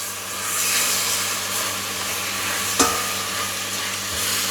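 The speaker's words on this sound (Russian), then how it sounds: "И все вместе перемешаем." Fried meat and its juices being stirred together in a pan for a home-style roast, a continuous soft sizzle and scraping with one sharp knock of the utensil partway through.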